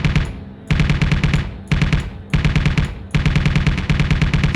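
Mech guns and turrets in the Space Engineers video game fire loud rapid automatic bursts, several long chattering volleys that follow one another with barely a break.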